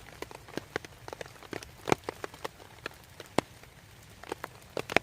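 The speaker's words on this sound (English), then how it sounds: "I don't think I know anybody that doesn't find the sound of the rain relaxing" Rain patters at a summer wild camp, with single drops tapping irregularly on a close surface, some sharp and distinct, others soft, over a quiet background.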